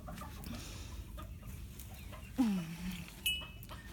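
A flock of chickens, a new group being introduced to an established one, clucks softly in the background, broken by two sharper squawks near the end.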